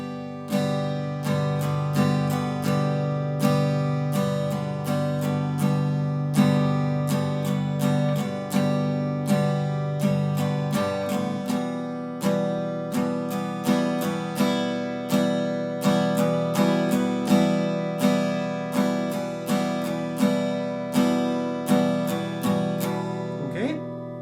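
An acoustic guitar strums the chords of a song in a steady, even rhythm, each chord ringing close and clear for the whole passage.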